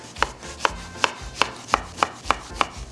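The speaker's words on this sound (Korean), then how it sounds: "반으로 가른 뒤 반달 모양으로 썰어 준비해 주세요" A knife slices half a zucchini into half-moon pieces on a cutting board, giving eight crisp, evenly spaced chops at a steady rhythm, close and clear, with no talking.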